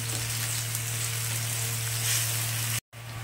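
Turmeric and salt sizzle and fry in a pan while being stirred for a mango chutney, a steady close crackling hiss with no talk and a brief dropout near the end.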